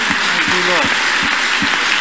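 A church congregation claps rhythmically in steady, evenly spaced beats, about two per second, while a voice carries on underneath.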